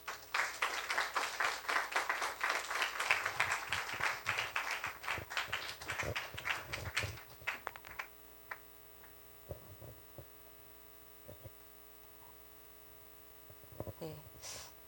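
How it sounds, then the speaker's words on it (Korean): A burst of audience applause at a church lecture, loud and dense for about seven seconds, then fading to scattered claps over a steady electrical hum. "나오시면 박수로 환영해 주시겠습니다"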